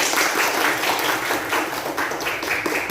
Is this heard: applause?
yes